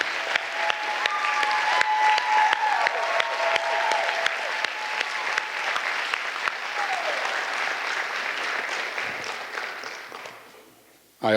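Audience applause for graduating seniors at a student achievement celebration: dense, sustained clapping from a large crowd that holds steady for about ten seconds, then fades out.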